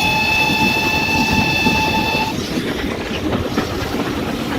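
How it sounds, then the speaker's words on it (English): Goods train heard from inside the brake van: a steady loud rumble and rattle of wheels on rail, with a sustained horn blast at first that cuts off partway through as the clatter carries on. "riding inside the brake van of a goods train"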